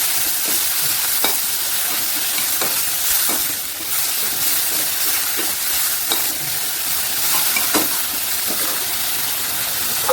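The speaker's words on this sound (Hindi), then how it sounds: "अब इसी स्टेप पे हम इसमें डालेंगे अदरक लहसुन का पेस्ट। अब इसको हम मिक्स करेंगे इसी तेल में।" Ginger garlic paste sizzles and spits steadily in hot oil, with occasional scraping clicks of a spoon stirring through the pan.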